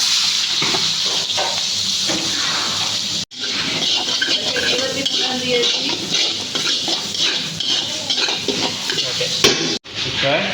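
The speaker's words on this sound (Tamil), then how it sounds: "எண்ணெய் நல்லா காய்ஞ்சதுக்கப்புறம் இது கூட கொஞ்சம் ஜீரா போட்டுப்போம் இது கூடயே வெட்டி வச்சுருக்கேன் வெங்காயத்தை சாப் பண்ணி அதான் போட்டுப்போம்" Cumin seeds and chopped onion fry in hot oil in a kadai, a steady loud sizzle and hiss with stirring and scraping of utensils against the pan, broken by two brief silent gaps.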